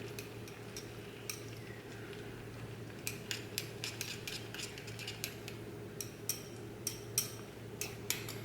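A utensil stirs Japanese natto with seasoning in a bowl, giving soft scattered clinks and scrapes that grow more frequent over a low steady hum in a quiet kitchen.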